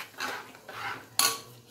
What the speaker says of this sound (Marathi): व्यवस्थित सोडताना त्याला व्यवस्थित हलवूनच घेऊया